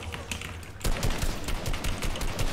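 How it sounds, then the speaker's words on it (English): Rapid gunfire in the video game Fortnite during a zombie survival mode, dense bursts of shots starting abruptly and continuing loud and close, with faint voices underneath. "You shoot from here, Jones."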